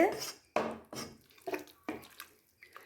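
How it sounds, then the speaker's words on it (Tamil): Stirring a prawn and potato white curry in a pot: wet scraping and sloshing strokes, about four distinct pulls at an even pace, close and moderately loud, with no talking. "இப்போ நம்ம இதை வந்து நல்லா கலந்து விட்டுக்கொள்வோம்."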